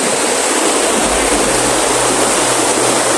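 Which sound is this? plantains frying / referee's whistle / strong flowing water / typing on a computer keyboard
strong flowing water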